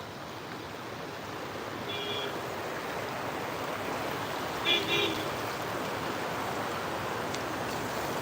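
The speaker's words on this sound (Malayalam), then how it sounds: "നല്ല അടിപൊളി മഴയാണ് അല്ലേ ഇവിടെ" Heavy rain pours steadily over water at a submerged bridge in Kannanur, Thirunellai, a broad continuous wash of rain and flowing floodwater, with a couple of faint distant tones briefly rising above it.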